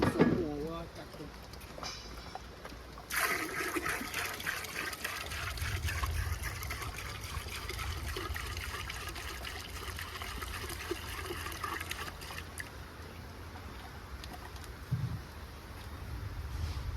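Water pours and trickles into a cooking pot over an outdoor fire by a river, a steady liquid splashing that runs for most of the stretch while people talk nearby.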